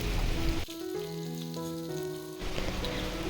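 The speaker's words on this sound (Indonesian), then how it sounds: "Setelah minyak panas, baru kita masukkan jengkol yang udah kita potong tipis-tipis." Thinly sliced jengkol dropped into hot oil in a wok, a steady crackling sizzle with a strong tonal hum through the middle, close and fairly loud.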